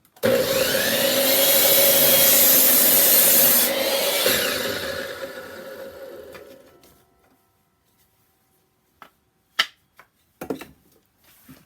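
A miter saw making a 22.5 miter cut through wood: a loud, close whine for about four seconds, then a winding down, followed by a few sharp clicks and knocks.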